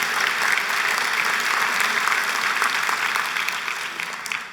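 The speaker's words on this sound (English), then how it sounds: "Yeah, you can clap for Miss Gerard." A church congregation claps warmly for Miss Gerard, a sustained, even burst of many hands that stays loud and steady before easing slightly at the end, with no one speaking.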